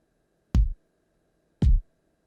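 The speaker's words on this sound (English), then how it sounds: "And those two kick drums sound like this." Two deep, punchy kick drums from a synthesizer, each a single booming thump with a quick click on top, spaced about a second apart.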